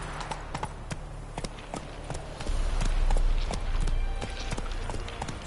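A horse gallops in The Witcher 3: Wild Hunt, its hooves thudding in a quick, steady rhythm that grows heavier and louder midway through. No voices are heard.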